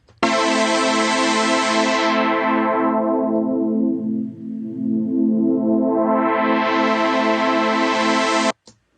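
Sustained synth line in Ableton with automated filter cutoff, loud buzzy tone that darkens to a muffled low hum midway, then opens back up bright before stopping abruptly.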